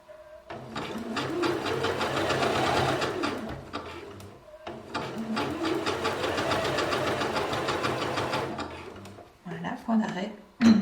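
A sewing machine stitches a gathered skirt down to the seam allowance in two long motor bursts that rise and fall in speed, a close rhythmic whir, followed by a few short clicks at the end.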